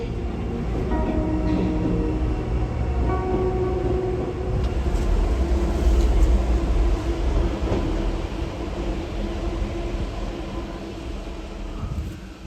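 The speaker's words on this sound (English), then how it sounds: "An arriving train can be heard on the empty platform" Metro train arriving at an empty underground platform in a disused Paris station, a loud steady low rumble and rolling roar that swells toward the middle and eases off, with no voices.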